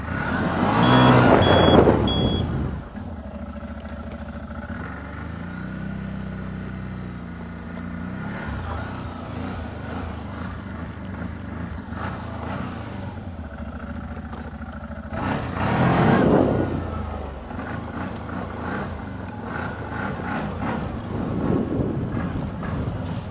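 A used CFMOTO ATV with clutch problems revs hard against its rev limiter, with a loud burst at the start, a sustained droning engine, then another surge near the middle, all close and without talk.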